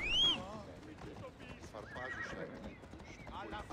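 A horse in Assassin's Creed Odyssey whinnies loudly when called, with clip-clop hooves and other game sounds around it, while someone talks over it.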